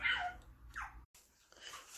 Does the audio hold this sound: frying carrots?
no